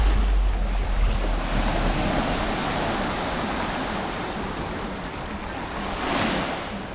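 Surf rolls onto Mul Dwarka beach in Gujarat at sunset with a continuous loud wash and a heavy low rumble. Wind buffets the microphone and the waves swell slightly near the end, with no one talking.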